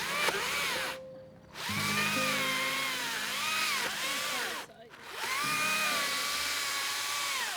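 A battery-powered saw cuts through a big tree branch, its whining motor rising and falling in pitch over two long bursts split by short pauses, close and loud.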